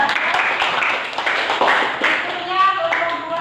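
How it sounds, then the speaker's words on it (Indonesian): A classroom of children claps for group 1, a loud, busy patter of hands with some young voices calling out over it. "Tepuk tangan untuk kelompok 1"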